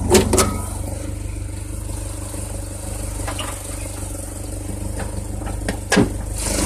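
A 1995 Ford Ranger XLT with a 2.3-liter four-cylinder engine idles close by with a steady, even rumble and a gentle rev, broken by a few sharp clicks and knocks.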